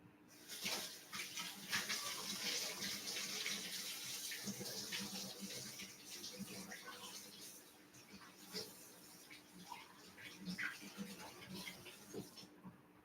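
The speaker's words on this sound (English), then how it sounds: "let me rinse this off" Tap water runs steadily into a kitchen sink as something is rinsed during brunch cooking, a continuous splashing hiss with faint clatter underneath and no talking.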